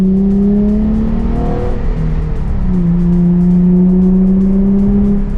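A Nissan 350Z RevUp engine revs hard and climbs in pitch as the car accelerates, dips briefly as it shifts, then pulls up again in a sustained loud drone.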